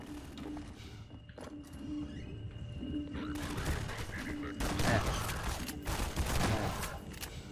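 Enemy gunfire in Half-Life 2, a series of sharp bursts and crashes over steady game ambience, loudest in the second half with scattered impacts.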